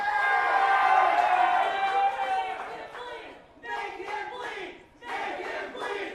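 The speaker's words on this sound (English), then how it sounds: "A bloodthirsty crowd. They want a bloodbath here tonight." Bloodthirsty wrestling crowd roaring and cheering, a loud swelling mass of voices that dips and surges again in waves.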